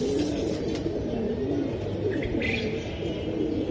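Silver pigeons coo steadily in a deep, throaty burble that runs through the whole stretch, loud and close, with a faint chirp or two above.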